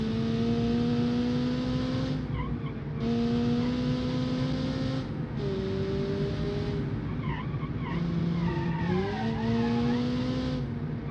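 Car in a racing video game with an open differential, engine revving loudly in repeated bursts between gear changes with tire skidding and squealing, no talk.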